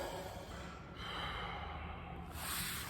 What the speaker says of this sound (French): on expire profondément